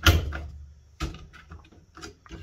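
A washing machine door with a repaired latch and handle is pushed shut, giving a heavy close-up thump and clack, followed by a second firm close about a second later and a few lighter latch clicks.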